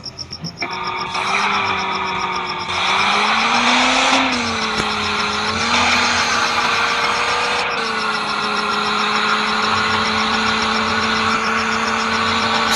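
A car driven in the video game Indian Vehicles Simulator 3D, its synthetic engine tone revving up in steps through gear changes and then holding a steady high drone, loud and continuous.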